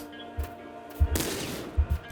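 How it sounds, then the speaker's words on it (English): Double shotgun blasts in the Nuclear Throne video game, several punchy bursts firing in quick pairs and singles over a steady electronic backdrop, loud and close with no talking. "Now we should be able to get some good damage off with the double shotgun."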